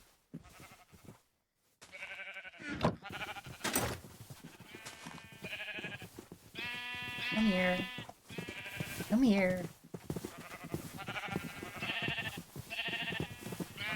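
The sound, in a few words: sheep bleating in video game Minecraft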